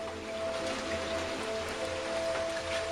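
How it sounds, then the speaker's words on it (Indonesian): Heavy rain falls on a forested mountain trail at night, a steady, dense hiss of drops that is close and continuous throughout, with a faint constant tone running beneath it and no voices. "hujan turun dengan derasnya"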